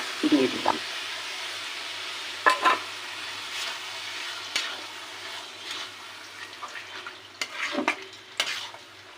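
A prawn curry with yogurt and fried fenugreek and cumin sizzles softly in a pan, broken by several scraping stir strokes, some close and sharp, others lighter, with no talking.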